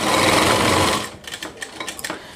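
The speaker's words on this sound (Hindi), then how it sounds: "इसके बाद हमें यहाँ पे ओवरलॉक मशीन से यहाँ पे ओवरलॉक कर देना है।" An overlock machine stitches lehenga panels for a Rajputi suit, with a loud, steady whir for about a second that then breaks into quieter, uneven stitching bursts.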